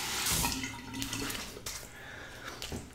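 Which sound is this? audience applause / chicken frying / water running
water running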